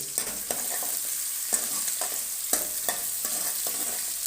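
Garlic and chillies frying in a pan, a steady bright sizzle broken by regular scrapes and stirs, close and fairly quiet, with no voices.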